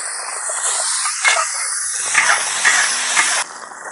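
Pork intestines hit hot oil in a wok with garlic and chili, a loud close sizzle and hiss with a few sputtering bursts before it drops off sharply near the end.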